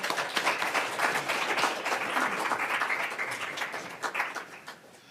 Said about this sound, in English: Can we clap for Sarah?